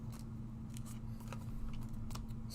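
Scissors snip through a stamped paper shape in a craft project, producing soft repeated cutting crunches over a steady low hum with no talking.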